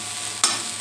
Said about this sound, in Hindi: मूंग की दाल को इसको फ्राई कर लेती हूँ